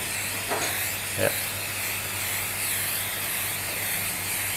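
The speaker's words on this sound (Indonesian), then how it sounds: "Disemprot seperti biasa, semprotnya seperti ini." Nano protector spray is misted onto a roughout leather boot, giving a continuous soft hiss that carries through the clip, with a couple of short bursts early on and a brief spoken word.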